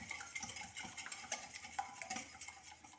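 Eggs, sugar and oil being whisked together in a bowl for a simple everyday cake, producing a quick, continuous clatter and scrape of whisk against the bowl, close and moderately quiet.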